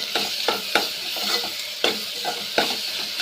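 Ginger garlic paste fries in a pan, giving a steady, close sizzle broken by a handful of sharp scraping stir strokes at uneven intervals, with no talking.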